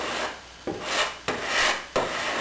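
Fairing compound on a boat keel is sanded by hand in long rasping strokes. Four steady back-and-forth passes scrape close and loud, each one starting with a sharp edge.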